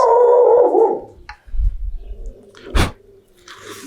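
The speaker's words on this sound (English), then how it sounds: "that's just my dog. That's just my dog protecting me." A dog barks and howls in a home workshop during guitar finishing work, a long whining howl up front followed by a few sharp nearby barks and low thumps, with no talking.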